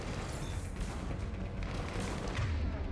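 Turrets fire in Mass Effect 3, a loud, continuous rumble of shots and booms with no clear pauses.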